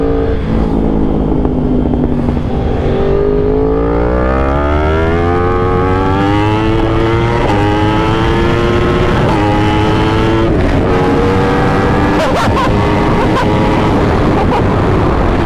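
A Yamaha R1 sport motorcycle fitted with new parts accelerates hard and lifts into a wheelie, its engine note climbing loud and close through rising gears with steady roaring wind noise.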